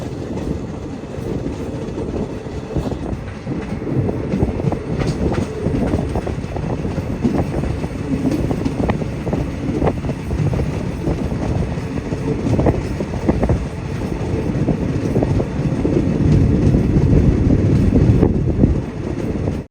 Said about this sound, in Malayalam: ട്രെയിനിപ്പോൾ അവന്തിപ്പുറ സ്റ്റേഷനിലേക്ക് ഇതാ എത്തിക്കൊണ്ടിരിക്കുകയാണ്